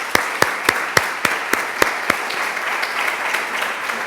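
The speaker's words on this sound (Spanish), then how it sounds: "Un aplauso para ti y muchas gracias." Applause for a guest at a talk on spirituality in old age: a few loud, evenly spaced claps close by over a softer bed of clapping from the audience, fading after a few seconds.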